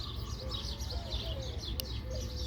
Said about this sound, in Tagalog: Ayan ay, daming ibon.